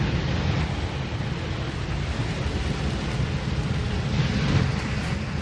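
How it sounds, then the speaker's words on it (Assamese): Heavy, steady downpour around a market, heard as a dense, continuous rain hiss and rumble at moderate level with no clear thunderclaps and no voices. "পিছতে পুৰা ধাৰাসাৰ বৰষুণ"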